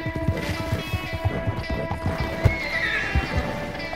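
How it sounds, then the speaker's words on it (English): A horse in a video game gallops with rapid, rhythmic clip-clop hoofbeats, then lets out a high neigh partway through, close and clear over a faint musical background. "My horse is already out of stamina."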